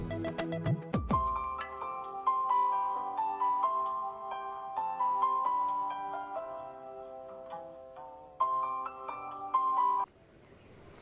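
A phone rings for an incoming call with a looping electronic melody of clear tonal notes, steady and fairly close, pausing briefly before resuming and then stopping abruptly.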